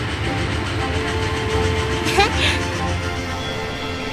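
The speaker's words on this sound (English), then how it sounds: "Hello, steam train. Hello, electric train." Cartoon trains, a steam train, an electric train and a high-speed train, rumble past with a steady rolling clatter and a brief whistle-like tone midway, under lively children's-show music and character voices.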